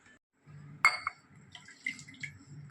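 Rinse water from a mixer grinder jar is poured into a pot of tamarind curry for a seafood feast, making a few quiet, brief splashes and trickles close by.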